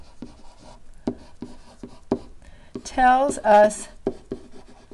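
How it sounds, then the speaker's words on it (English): A pen scratches across paper in short, irregular strokes during a calculus lesson, with a brief clearer passage of sound in the middle. "Pen never likes to write right off the bat."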